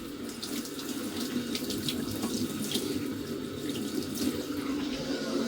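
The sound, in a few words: hot water running from a tap fed by a Biasi combination boiler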